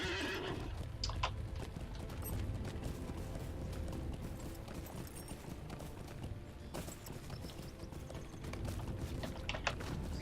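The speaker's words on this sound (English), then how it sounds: "I'll get on my horse, that'll be quicker." A horse in the Lord of the Rings Online video game whinnies, then its hooves clip-clop steadily as it moves, fairly quiet under ambient game sound, with no talking.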